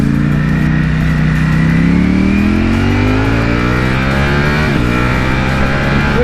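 A Ducati Panigale V4 motorcycle accelerating on an empty road, its engine roaring loud and close as the pitch climbs steadily through a gear, then a quick-shifter change and the rise resumes.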